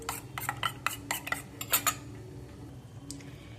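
A metal spoon clinks and scrapes rapidly against a bowl while stirring cornflour into water, a series of bright taps fading to quiet near the end, close and fairly soft.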